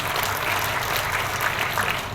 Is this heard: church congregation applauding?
yes